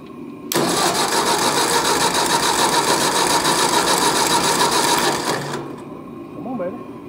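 Engine of a 600 being started on choke: after a brief pause it bursts into a loud, steady running roar for about five seconds, then cuts off, with a voice speaking afterward.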